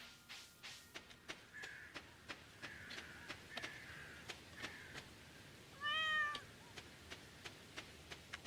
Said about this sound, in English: And give some love to the cat, of course.